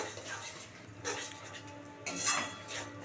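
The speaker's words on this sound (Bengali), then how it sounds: "আমরা এটাকে ভালো করে দইটাকে ফেটিয়ে নেব" Yogurt being whisked by hand in a bowl, with soft scraping and clinking of a utensil against the bowl in a few short bursts over a low steady hum.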